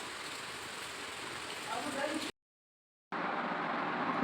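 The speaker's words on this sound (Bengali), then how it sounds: "আর বৃষ্টি ঝড় সব উঠে আসলো" Steady broadband rain and storm noise pours down on surfaces, cutting out briefly mid-clip before resuming at a similar level, loud and continuous.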